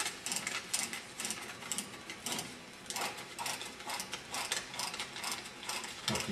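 A printer mechanism feeds paper past the print head, making a continuous run of rapid ratcheting clicks and gear whirs, fairly faint and with no talking.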